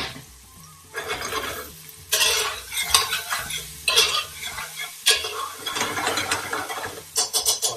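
Onions fry and sizzle in a pan for a lamb madras masala, with bursts of stirring scrapes coming in waves over a steady hiss, close and fairly loud with no talk.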